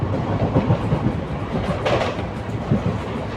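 The Kalka-Ambala Cantt passenger train runs along a single-line section, a steady rumbling roll with rhythmic wheel clatter heard from on board.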